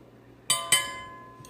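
Stirring floor wash ingredients in a glass container gives two bright clinks of a utensil against the glass in quick succession, then a fainter third tap, in a quiet room.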